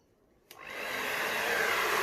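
An air blower starts abruptly, pushing acrylic paint across a canvas in a Dutch pour, a steady close hiss that swells and holds loud after a brief quiet start.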